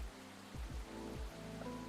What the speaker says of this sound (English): My ears were being blasted by the rain.